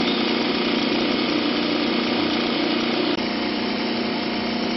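An AC motor on a rotary inverter bench setup runs on capacitor-discharge generator output from a second motor, giving a steady, loud, even mechanical whir and hum that holds constant throughout with one tiny click near the end.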